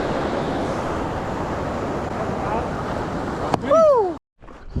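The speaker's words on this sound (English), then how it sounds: "It's quite windy here." Steady broadband wind noise gusts across the microphone on an exposed mountain route in the Wind River Range, continuous for several seconds before cutting out briefly near the end, with a short whooping voice rising over it.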